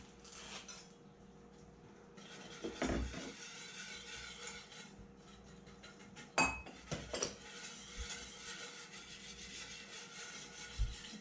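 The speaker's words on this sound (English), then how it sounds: "we actually need to stir in the sugar and salt and get it fully dissolved before we put the fish in" Spoon clinking and scraping inside a bowl while sugar and salt are stirred into brine, faint and steady with a few sharper taps, over a low room hum.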